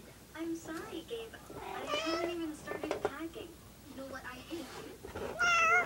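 A house cat meows repeatedly in drawn-out, wailing calls close by, overlapping with a person talking and arguing over it, with a sharper, louder cry near the end.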